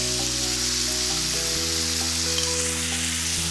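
Chopped onion frying in oil in a saucepan, a steady, close, loud sizzle with a crackling hiss that continues unbroken throughout, with no one talking over it.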